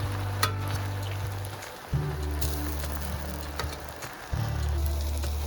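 Spices are stirred into eggplant frying in a pan, with a steady sizzle close by and a few clinks and scrapes from the stirring. A low hum runs under it throughout, and no one speaks.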